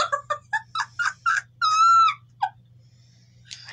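Indoor cat letting out a string of short cries, rising into one longer drawn-out wail, then cutting off abruptly, followed by a faint final sound over a low steady hum.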